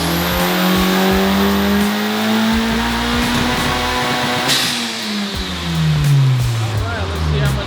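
A 2024 Honda Civic Type R running E85 on a dyno revs hard and steadily, its engine note climbing, dipping briefly, then rising again, loud and close throughout.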